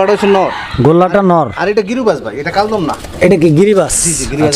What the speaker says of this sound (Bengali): এখানে আরো এক জোড়া কবুতর আছে